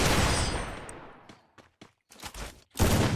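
Desert Eagle gunfire in the mobile battle game Free Fire: a loud burst that fades, then several sharp separate shots with short gaps between them.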